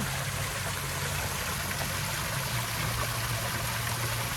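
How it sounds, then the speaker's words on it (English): A small garden water feature trickles in a natural plant nursery, giving a steady, quiet wash of running water with no voices. "This is one of our little water features there."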